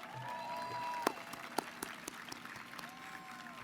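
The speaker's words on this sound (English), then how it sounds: "Let's give them a round of applause." Audience applause at a university commencement ceremony, a fairly faint, steady patter of clapping running throughout with a few sharper claps standing out and a voice faintly audible underneath.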